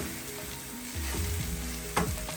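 Chillies sizzle in hot oil with coriander, cumin and turmeric for a fish masala, giving a soft, steady crackling fry with a small clink of the pan near the end.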